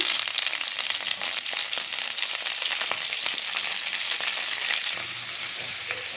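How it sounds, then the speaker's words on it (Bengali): Thick-cut cabbage leaves fry in a pan for Bengali badhakopi bata, a dense steady sizzle with scattered crackles and pops, loud and close, no voices. "এবার এর মধ্যে আমি দিয়ে দিব কেটে রাখা বাঁধাকপি পাতাগুলো"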